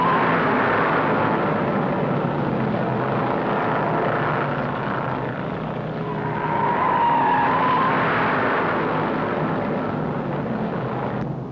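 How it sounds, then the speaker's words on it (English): 1961 NASCAR stock cars, including a Pontiac, racing at speed in the Daytona 500, a loud continuous engine roar with a rising and falling drone as cars sweep past, without pause throughout. "Roberts in number 22 Pontiac plants his foot a little deeper, turning his second lap at 154 miles an hour"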